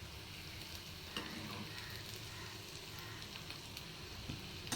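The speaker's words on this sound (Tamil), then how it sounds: "பொறுமையாக பொரித்து எடுக்கணும்." Kola urundai, Chettinad meatballs made with karunaikizhangu (elephant foot yam), frying slowly in hot oil over low heat, giving a steady dense sizzle and crackle with faint stirring clinks and no talking.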